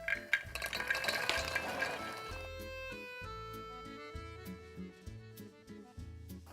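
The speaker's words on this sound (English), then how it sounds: "I'll stir them properly so that they can absorb all the honey." A spoon stirs struffoli honey balls through melted honey in a pan, scraping and clinking against the metal in an irregular rhythm of soft knocks, close and fairly quiet.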